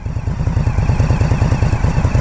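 A 2022 Indian Scout Rogue motorcycle on its stock exhaust idles steadily up close, a low, even burbling pulse with a slight clatter, continuous and fairly loud throughout.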